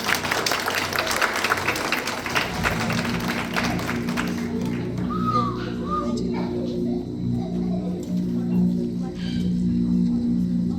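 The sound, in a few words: audience clapping for the kids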